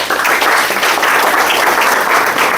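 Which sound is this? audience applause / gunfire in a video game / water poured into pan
audience applause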